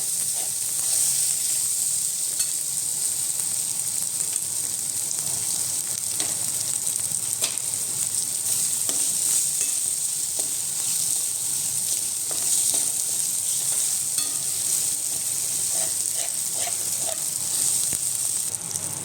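Tomatoes frying in oil for a guar bean curry with poppy seeds, giving a steady, loud, even sizzle for the whole stretch with occasional faint stirring scrapes and no talking.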